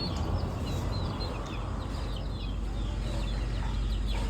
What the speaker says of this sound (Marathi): बघू शकतात त्या कोंबड्या लगेच पटापट मांडीवर येऊन बसल्या